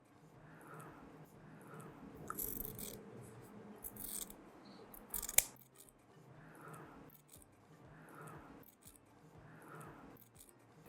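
Scissors cutting patchwork fabric along a sewn seam line in a quilting session, with a few crisp close snips among quiet handling sounds.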